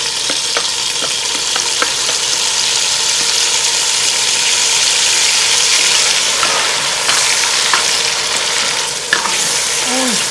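Garlic, ginger and green chili paste fries in a pan with a loud, steady sizzle and occasional stirring scrapes, close up with no talk.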